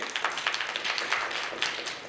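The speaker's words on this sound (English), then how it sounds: "can I have a round of applause for this guy?" A small audience at a training session gives a short, faint round of applause, with a steady patter of scattered claps.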